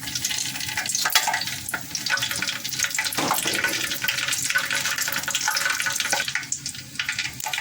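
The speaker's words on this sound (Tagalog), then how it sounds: "ngayon, ilalagay ko na yung sibuyas at bawang" Chopped onion and garlic sizzle steadily in hot olive oil for a chicken curry, a dense, continuous hiss with a few brief stirring knocks and no voice.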